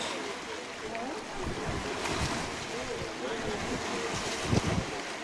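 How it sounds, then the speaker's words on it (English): Water at the edge of the Sea of Galilee, a continuous wash of lapping water mixed with wind buffeting the microphone, with a few louder splashes near the end. "Right down here on the Sea of Galilee, on the water's edge."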